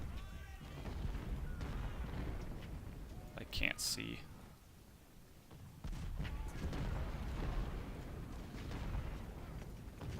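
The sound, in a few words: cannon fire in a Civil War video game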